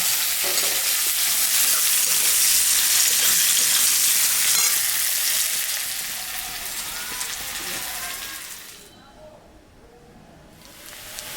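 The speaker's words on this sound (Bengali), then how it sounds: "পেঁয়াজটা ভাজা হয়ে গেছে" Onions sizzle and crackle in hot oil in a pan on a home kitchen stove, a steady hiss that eases off near the end as the frying dies down, with faint background noise.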